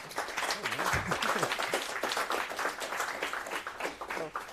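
An audience claps and cheers together, a loud burst of applause with voices calling out through it.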